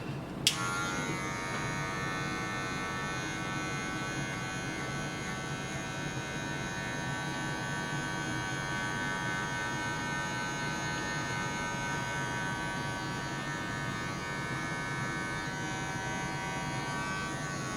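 Electric hair clippers buzz steadily through a drop fade haircut, a close, even motorized whine holding for the whole stretch, with a brief click near the start and no talking.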